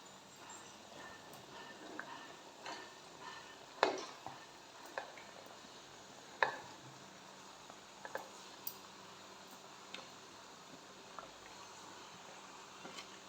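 Ridge gourd pieces stirred into dried prawns frying in oil: faint, low sizzling with scattered spoon scrapes and clinks against the pan, a few sharper knocks standing out.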